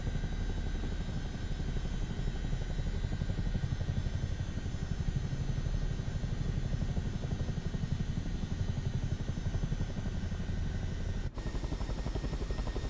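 A Chinook helicopter flying in Microsoft Flight Simulator 2024, a steady, even rotor and engine drone that holds at a constant level throughout, moderately distant and alone, with a brief dropout near the end.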